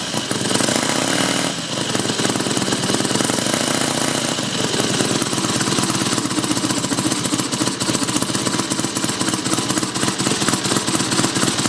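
The small engine of a Mini Hog 70 minibike runs loud and close, a harsh rapid buzzing rattle that settles into a steady idle throughout.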